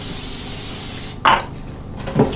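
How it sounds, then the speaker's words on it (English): A short hiss of cooking spray over frozen food for an air fryer runs for over a second, followed by two quick soft knocks or rubs; no talking. "Just spray them a little bit with some cooking spray."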